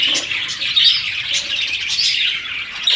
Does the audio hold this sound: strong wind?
no